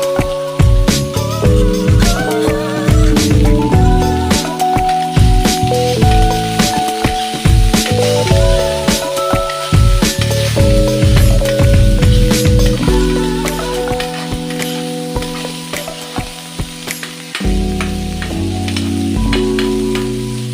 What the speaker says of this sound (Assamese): এইখিনিও ভালদৰে ভাজি লোৱাৰ পিছত এতিয়া মই কাটি থোৱা জিকাৰ বাকলিখিনি দি দিছোঁ ইয়াতে